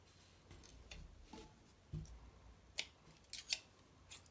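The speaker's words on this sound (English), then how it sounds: "there's a few random ones that I'm going to trim" Scissors trim loose threads on a handmade fabric rose: a few quiet, crisp snips scattered irregularly over faint background, with several sharper cuts clustered late.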